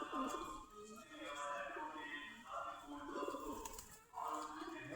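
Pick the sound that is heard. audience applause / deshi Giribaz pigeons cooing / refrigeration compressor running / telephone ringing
deshi Giribaz pigeons cooing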